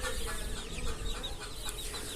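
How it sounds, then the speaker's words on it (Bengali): Many high, thin chirps from young chicks overlap continuously over a low background rumble, close by and fairly steady throughout. "তো মনে করেন এই হচ্ছে মুরগির বাচ্চা"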